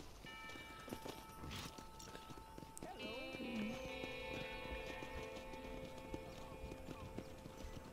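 Horse hooves clip-clop at a walking pace in the video game Red Dead Redemption, with a brief whinny in the middle and light ambient game music underneath.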